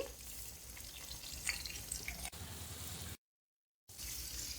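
Cumin seeds fry in butter in a pan, giving a steady, close hissing sizzle with faint crackles, broken by a short silent gap.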